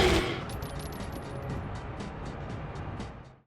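Gunfire from the video game Judge Dredd: Dredd vs Death rattles in a rapid, regular stream of shots over a dense game background, fairly loud and continuous before cutting off at the end.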